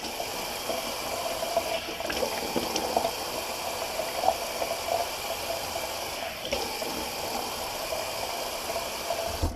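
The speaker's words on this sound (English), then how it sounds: "So I'll just rinse that alum back off." A steady stream of running water washes alum off a freshly shaved face, a continuous soft hiss and patter at moderate distance, with no talking.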